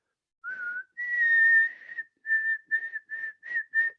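A person whistles a short rising note, then a longer steady tone, followed by a run of six quick chirp-like whistles imitating a small bird, close and clear.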